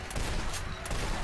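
A shotgun fired in the Legendary video game, quick loud blasts in succession, a couple of sharp bursts within about a second over game background noise.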